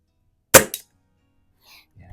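A Stoeger X5 .177 spring air rifle fires at a range, one sharp close crack with a quick second snap, then faint soft sounds in near silence.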